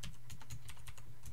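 Quick, light keystrokes on a computer keyboard, several clicks in an uneven run over a low steady hum, close and fairly quiet with no talking.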